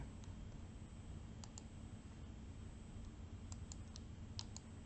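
A few quiet, sharp computer mouse clicks tap out in small clusters over a low, steady room hum, close but faint.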